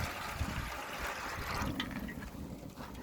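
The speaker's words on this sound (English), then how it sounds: "I got here 4 cups of water. So we're going to pour that into the pan." Four cups of water poured into a drip pan on a BBQ grill for a wet smoke, a steady close splashing and gurgling that runs for the full few seconds without any talk.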